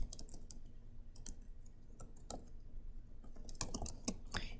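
Fingers type on a computer keyboard in quiet, irregular bursts of crisp key clicks, a few at a time with short pauses, growing busier toward the end.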